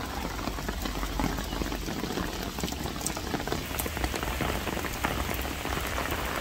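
Steady heavy rain falling outdoors and drumming on surfaces, a dense continuous hiss that stays even and close throughout without letting up.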